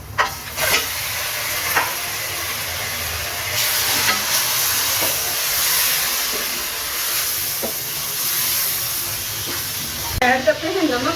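Meat for aloo gosht sizzles and hisses steadily in a hot pan, with a loud, continuous frying roar and a few brief clatters of stirring.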